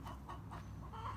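A molting rooster clucks a few short, low calls in quick succession, close by, with a soft background hum.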